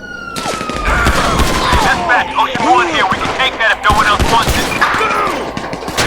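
Gunfire in the LSPDFR police video game, a burst of sharp shots mixed with siren-like wails and chirping tones, loud and continuous throughout, with a voice speaking over the din.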